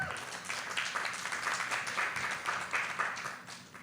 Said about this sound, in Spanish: Un aplauso también para Valeria.